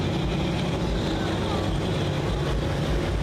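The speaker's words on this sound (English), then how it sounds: "Driving a John Deere 7520 with a Cyclone diesel performance engine." A John Deere 7520 tractor fitted with a Cyclone diesel performance engine pulls at a tractor pull at the Holmes County Fair in Millersburg, Ohio, producing a loud, steady, continuous engine roar that fills the whole stretch.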